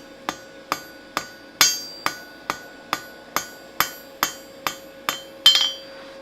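A hammer forges hot steel on an anvil to taper the end of a J hook, giving about a dozen sharp, ringing strikes at a steady rhythm with no talking.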